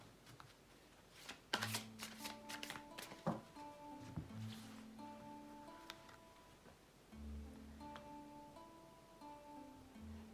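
Tarot cards are shuffled in quick, crisp riffling bursts with a few pauses between rounds, set over soft, steady background music.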